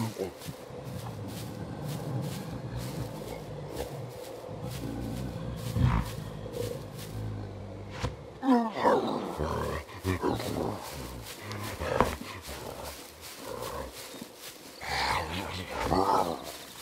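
Zombie in the survival video game Scum making growling, roaring creature noises, loud and close, with rustling and thumping movement and sudden bursts through the second half.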